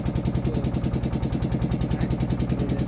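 A motorbike engine idling nearby, a loud, steady rapid pulsing thrum with an even mechanical beat throughout and no other sounds.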